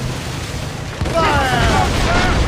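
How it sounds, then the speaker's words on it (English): Ship mortars fire in Assassin's Creed Rogue, a deep low boom rolling in with dense rumble beneath, while a shouting voice calls out over the din. "Mortars! Fire!"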